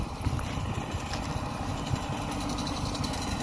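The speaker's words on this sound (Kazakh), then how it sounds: "Трактормен қамыс шауып жатыр міне." Tractor engine cutting reeds in the field, a steady low rumbling drone with rapid rhythmic mechanical clatter running continuously, close and unbroken.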